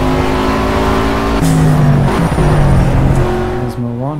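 A race car in the driving game Project Cars, played in VR: a loud, steady engine drone that drops in pitch through downshifts and climbs again, with the tyres squealing through corners. No speech.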